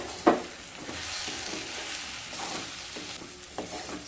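Semolina (sooji), dry-roasted beforehand, is stirred in a pan while cooking jhal sooji. A sharp utensil scrape opens the clip, followed by soft, steady scraping and light sizzling, with a few more faint scrapes toward the end.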